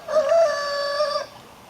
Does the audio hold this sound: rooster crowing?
yes